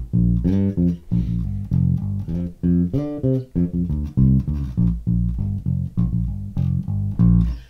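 Electric bass plays a riff, a bouncy, repeating blues line of short plucked notes in a steady loping rhythm, loud and close, heard alone without talk.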